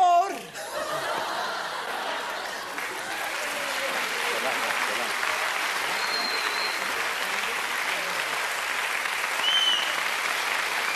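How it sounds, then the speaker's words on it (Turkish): A theatre audience at a comedy stage show applauds steadily for several seconds, a dense even wash of clapping mixed with scattered chuckles and laughter. "Alkışlıyorlar. Beni alkışlıyorlar, yapma ya."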